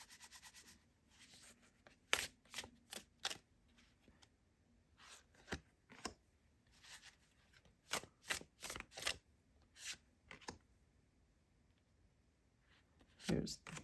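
Tarot cards are shuffled and handled during a Celtic Cross reading. Soft, papery flicks and riffles come in irregular short bursts with quiet pauses between them, close and fairly faint.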